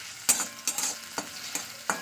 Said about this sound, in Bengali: পেঁয়াজটা একটু লাল করে ভাজা করে নেবো।